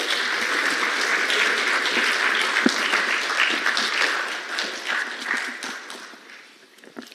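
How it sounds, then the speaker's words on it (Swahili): A standing audience at an official Tanzanian event applauds the President with dense, sustained clapping that fills the hall for several seconds before tapering off. "Naomba sasa tusimame kwa heshima ya Mheshimiwa Rais na tumpongeze kwa makofi"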